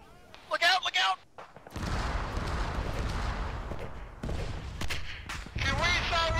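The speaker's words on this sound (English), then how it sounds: "Can we stop exploding for 5 goddamn minutes?" Explosions in a tactical military video game: a sustained loud rumbling blast roars under the action, broken by short sharp voice outbursts at the start and end, with people talking over it.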